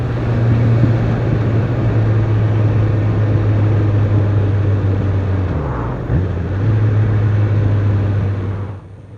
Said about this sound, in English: Bike does sound nice when I'm engine braking.